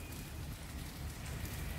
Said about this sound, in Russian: Шпарит, девочки, дождь